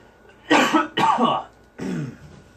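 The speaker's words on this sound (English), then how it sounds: "Excuse me guys, I got to cough really quick." Three harsh coughs, two quick and close together, then a third after a short pause, loud and close.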